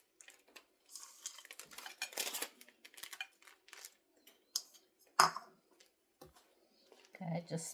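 A utensil scraping and clicking against a pan while chocolate chips are spread over homemade toffee, irregular taps and scrapes with a sharp clink near the middle, and a person speaking at times.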